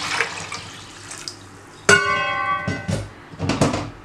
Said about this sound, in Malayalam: മുക്കാൽ പാകത്തോളം വെള്ളം ഒഴിച്ചു കൊടുക്കാം.